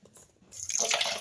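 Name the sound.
water being poured into flour and mixed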